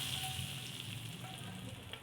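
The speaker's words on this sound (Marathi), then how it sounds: "अख्खा मसुरामध्ये हा तडका मारून घेतो" Tadka of oil and chutney sizzling in an iron kadhai for whole masoor dal, a steady close crackling fry lasting about two seconds with no talk.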